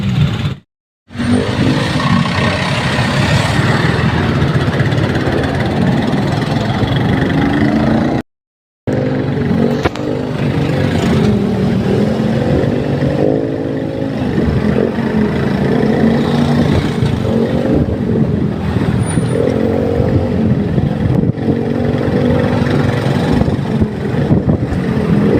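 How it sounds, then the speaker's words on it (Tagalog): Idling and slowly creeping car engines fill heavy Manila road traffic between Makati and Pasay, a loud steady rumble heard from inside a vehicle, with two brief dropouts and occasional revving swells. "Sobrang traffic dito sa Manila"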